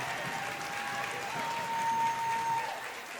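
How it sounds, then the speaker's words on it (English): Crowd noise fills a high school gym on senior night during a basketball game between Edward Little and Oxford Hills at Oxford Hills Comprehensive High School: a distant, continuous roar of voices and clapping, with a faint steady tone running through it. "A raucous crowd on senior night here at Oxford Hills Comprehensive High School."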